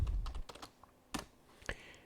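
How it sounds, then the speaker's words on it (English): Keys on a computer keyboard are typed in short bursts of clicks, a quick flurry at the start followed by a few isolated, sharper keystrokes, close and clear with no talking. "So we do that by typing in"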